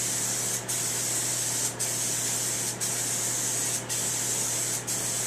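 A spray can of John Deere Blitz Black paint, held 8 to 10 inches away, gives off a steady close hiss broken by five brief pauses.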